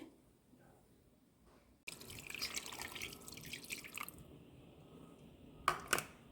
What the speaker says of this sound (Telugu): నీళ్ళు వేసి.